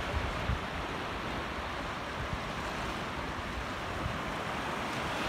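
Sea waves wash steadily into a small cove beside a forest campsite at İncekum, Alanya, a continuous broad surf roar with light wind noise and no voices.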